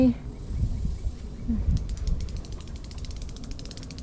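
Cicadas in a dry, windy forest break into a rapid, rhythmic ticking rasp about halfway through, after low rustling and handling noise at the start.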